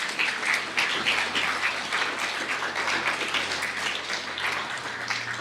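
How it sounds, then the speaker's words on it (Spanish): Sustained applause from a church congregation during a Sunday morning sermon, steady and moderately loud throughout with a faint low hum underneath and no talking. "Dale un fuerte aplauso a Dios en esta mañana."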